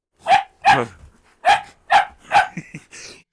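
A Cane Corso puppy barks five times in sharp, high-pitched yaps, close and loud, with short pauses between them.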